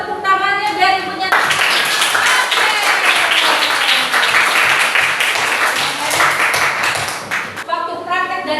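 Children in a classroom clap together in a dense burst of applause lasting several seconds, loud and close, with talk before and after.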